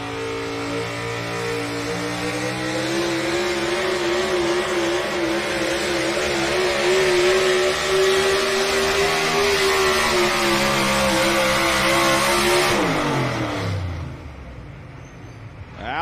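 The Mopar Dodge pulling truck "Wild Thing" thunders at full throttle during a truck pull in Rock Valley, Iowa, a loud sustained engine roar rising in pitch before abruptly cutting away near the end.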